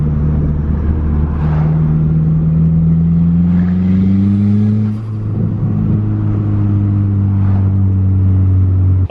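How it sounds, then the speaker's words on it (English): A car fitted with an electronic exhaust cutout and open downpipe, its turbo spooling, makes a loud, droning, diesel-truck-like engine note while cruising, with the pitch shifting gently as it accelerates and holds speed, and no talking. "driving around with my electronic cutout, open downpipe, turbo spooling, sounding like a diesel truck"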